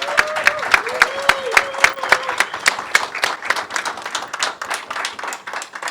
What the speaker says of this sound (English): That was the first round of applause.